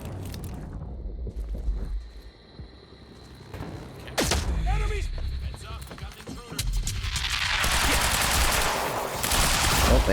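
Sniper gunfire in the Quantum Break video game, a few sharp, loud shots cracking out over a busy backdrop of game sound, followed by rising noisy rumble toward the end.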